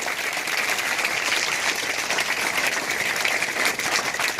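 An audience claps steadily at a formal program on child protection law, a dense, continuous applause with no pauses, fairly close and loud.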